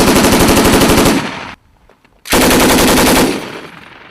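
Loud bursts of rapid gunfire from a new sniper rifle, a sustained volley, a short pause of near silence, then a second equally loud volley that tails off.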